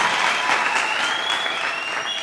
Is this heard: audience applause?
yes